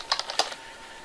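Keys tapped on a computer keyboard while a student types a chat message to an instructor in an online BigBlueButton class, about six quick close clicks in the first half, then quiet room tone.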